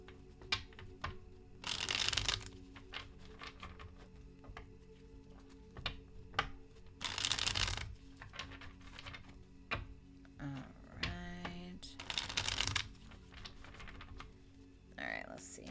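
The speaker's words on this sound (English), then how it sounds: "Hold on, I'm just shuffling." Tarot cards are shuffled in several short bursts, crisp riffling flutters separated by pauses, with faint ticks and a quiet voice between them.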